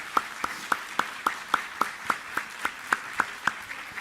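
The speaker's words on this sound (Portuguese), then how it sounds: "eu queria pedir mais uma salva de palmas para os músicos da Maré" An audience at a Cultura Conecta panel event applauds the Maré musicians. Evenly spaced, rhythmic claps sound crisp and close, like a single pair of hands keeping a steady beat for about four seconds.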